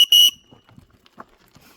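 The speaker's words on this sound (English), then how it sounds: "I've got a loud whistle." A loud safety whistle, carried to scare off bears on a mountain bike route, gives a sharp, shrill blast close by. Quiet rustling and small movement sounds follow.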